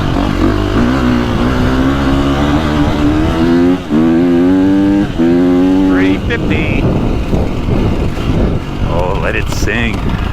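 A 2025 KTM 350 XCF dirt bike with Akrapovic exhaust revs hard and close, its engine note climbing through rising pitch sweeps and gear changes, loud throughout with a rider's voice over it.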